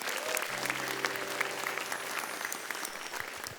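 A comedy club crowd at a stand-up show applauds, steady broadband clapping that lasts the whole clip, with a faint voice under it.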